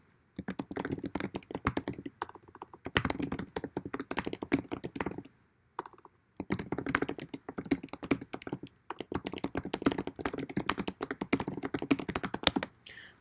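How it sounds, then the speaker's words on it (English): Typing a question on a computer keyboard: rapid, close clicking keystrokes in several bursts separated by brief pauses, crisp and steady with no voices. "So you would type in a question"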